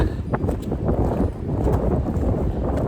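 Wind gusts buffet the microphone on a mountain hiking trail, a loud, rumbling, uneven roar with brief sharper bursts throughout.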